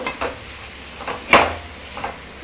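A spoon stirs an egg fry with onions and coriander in a pan, making several soft scraping strokes with one louder clank, close and without talk.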